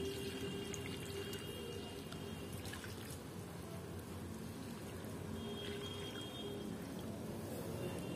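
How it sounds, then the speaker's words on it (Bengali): Fungicide-treated water poured into a potted phalaenopsis orchid over charcoal and brick pieces, a steady continuous trickle and splash held close and moderately loud for the whole stretch, with no voices. "এই দেখো এই ফাঙ্গিসাইডের জলটাই আমি এবার এখানে ঢেলে দেবো।"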